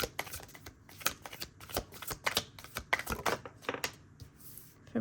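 A deck of tarot cards is shuffled by hand up close, with rapid riffling bursts in an irregular rhythm and short pauses between them, quiet and free of talk.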